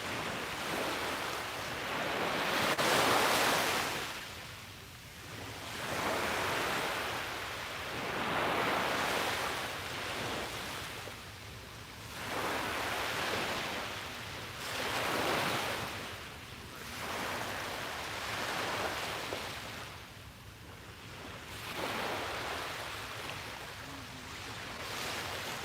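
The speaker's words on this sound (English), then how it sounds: "soak in the colors of this beautiful scenery and the sounds of the waves" Ocean waves roll in and break on the shore in a slow, regular rhythm, each swell rising and washing away again, with light wind noise and no voices.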